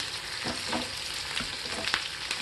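Large capsicum pieces frying on high flame in a pan for soya Manchurian, a steady loud sizzle with a few stirring scrapes over about two and a half seconds.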